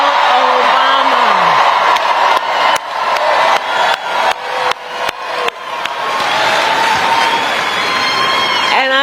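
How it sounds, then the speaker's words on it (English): A large crowd at a Kalamazoo campaign event with Kamala Harris applauds and cheers loudly for former First Lady Michelle Obama, a dense, sustained roar of clapping with whoops and shouts that holds steady to the end. "Can we please applaud my dear and incredible friend, the former First Lady, Michelle Obama."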